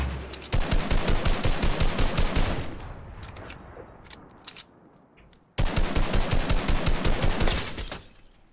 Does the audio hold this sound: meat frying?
no